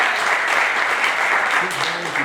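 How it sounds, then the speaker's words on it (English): An audience at an evening talent showcase applauds, a dense wash of clapping that runs steadily for the whole moment, with a voice speaking faintly underneath near the end. "I gotta take one quick second to give a round of applause for all the talent that's been in here."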